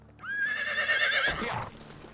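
A horse in the game Medieval Dynasty lets out a loud, close whinny lasting about a second, its pitch wavering before falling away into a breathy snort.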